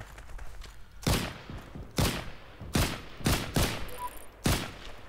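Gunfire in the World War II shooter game Heroes & Generals, played as US infantry: five or six loud, sharp single shots spaced about a second apart, each with a short decay and faint background between.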